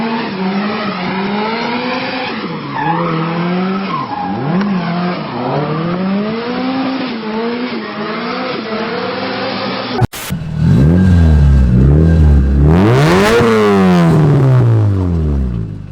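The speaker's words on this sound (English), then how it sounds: "That's the gnarliest sounding SR20." An SR20 engine in a PS13 car revs hard and loud, rising and falling in pitch through several bursts, then a sharper, rougher roar with rapid climbing revs.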